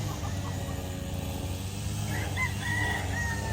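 A yellow-legged Gilmore Kelso cross gamefowl rooster crows on a farm, a drawn-out call rising over steady low background noise, moderately distant and alone without talk.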